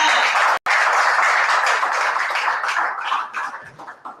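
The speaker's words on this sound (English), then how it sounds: "Please join me in applauding" Audience applause in a room at the launch event of a climate hackathon, a steady broadband patter of many hands that cuts out briefly near the start, then continues and gradually thins out toward the end.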